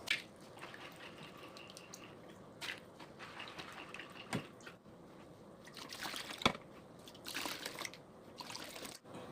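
Soaked mung beans scooped through water with a rice strainer, faint splashes, drips and trickles coming in irregular bursts with brief sharp knocks, close and quiet.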